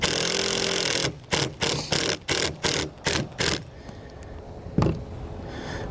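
A Phillips head self-tapping screw is driven into an RV awning end cap, a power driver whirring in about seven short bursts with pauses, then a sharp knock and a faint hum.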